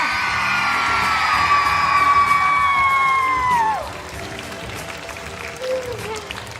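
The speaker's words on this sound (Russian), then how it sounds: "Ваши аплодисменты, дорогие друзья!" An audience at a children's choreography studio recital applauds with shouts and whoops, and a loud sustained voice rises over the clapping before it drops. The crowd noise then carries on more quietly.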